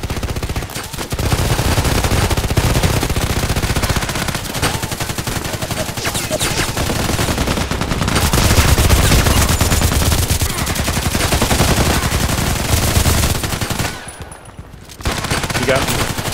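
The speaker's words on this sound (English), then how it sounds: "he's shooting out of the container" Rapid gunfire in the Contract Wars shooter game, with dense bursts of automatic shots and sharp cracks almost continuously, loud and close, briefly dropping out near the end before resuming.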